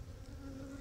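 Honey bees buzz at an open hive while frames of brood are inspected, a close and steady hum that sits alone for a brief moment.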